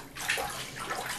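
Hands rinse in a sink already filled with water, making soft sloshing and splashing that swells and fades over a second, close by with no talking.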